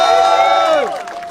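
A crowd at a FNDC party gathering in Belgium cheers and applauds loudly, with a prominent whooping cry that slides down in pitch before the noise settles into steady clapping and shouting.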